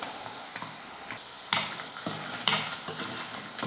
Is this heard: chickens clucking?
no